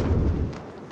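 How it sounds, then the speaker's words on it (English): A single deep, rumbling blast from an explosion near Al-Shifa hospital in Gaza City, a short, heavy low boom that decays quickly through a distant, muffled camera feed. "we just heard quite a significant explosion there on our"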